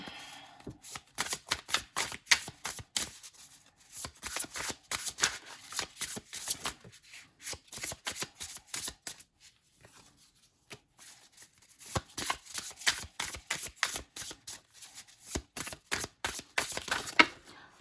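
A deck of cards is shuffled close up in repeated bursts of rapid riffling and snapping clicks, with a short quiet pause midway before the shuffling resumes.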